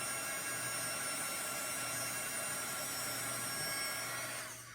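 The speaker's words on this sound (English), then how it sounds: "you can use this to help start the drying process a little faster" A heat gun blowing hot air, a continuous, loud whooshing blower with a steady electric hum underneath, running unchanged and close before tapering off at the end.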